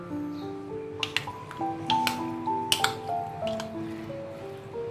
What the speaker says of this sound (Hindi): इसमें मैं थोड़ा सा ऑयल ऐड करूँगी। इसको मैं अच्छी तरह से मिक्स कर लूँगी।